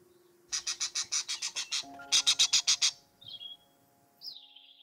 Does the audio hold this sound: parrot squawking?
yes